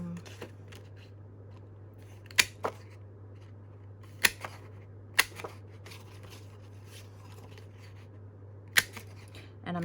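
A round punch cuts circles from black cardstock in sharp, sparse clicks, about five distinct snaps spread over ten seconds, over a low steady hum in a quiet room.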